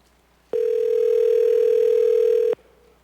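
Telephone tone of a forwarded call, a single steady electronic beep held loud and clear for about two seconds between brief silences.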